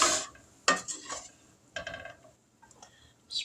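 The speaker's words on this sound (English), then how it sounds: "now we're going to layer some of this meat mixture over it" A seasoned meat mixture is spooned and spread over a layer in a burrito casserole dish, giving several scraping and clinking strokes of a utensil against the pan, with brief quiet gaps between them.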